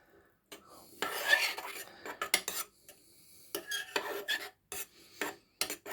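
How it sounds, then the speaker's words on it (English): A utensil scrapes and clatters against a pan while stirring a chickpea and corned beef curry, in short, irregular bursts of metallic rasping separated by quiet pauses. "another stir"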